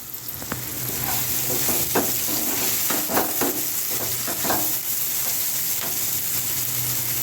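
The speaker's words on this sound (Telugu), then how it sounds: "ఇదండి ఎగుతున్నాయి కదా ఇప్పుడు రెండు కరివేపాకు రబ్బలు వేస్తున్నానండి" Onions fry with salt and curry leaves in a pan, a steady close sizzle with broadband hiss and scattered stirring clicks and scrapes throughout, no voices.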